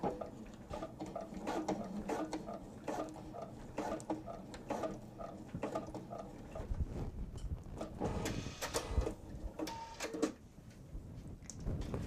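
A sewing machine basting stitches about an eighth of an inch in on a fabric wallet, running in a fast, steady mechanical whir with rhythmic clatter throughout, close and fairly quiet, with no talk.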